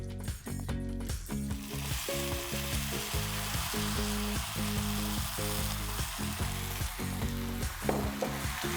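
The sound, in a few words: pre-cooked rice added to frying cashews and raisins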